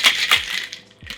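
Ice rattles and crunches inside a cocktail shaker during a whiskey cocktail, a brief burst of rapid, bright shaking that tapers off toward the end.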